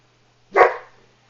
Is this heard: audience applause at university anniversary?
no